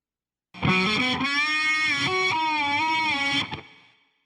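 Reversed electric guitar phrase from a looping device, with distorted notes that swell up and stop suddenly in one sustained wavering line, played loud with no talking, then decaying briefly.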